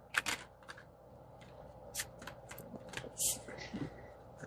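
Tarot cards shuffled during a card reading, a scattered run of soft riffling clicks and slaps, close by and irregular, with a brief pause in the middle.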